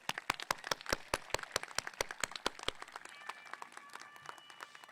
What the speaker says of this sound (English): Graduates, let's give a round of applause to the family members who are here today.